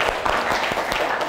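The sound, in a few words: applause for students in a classroom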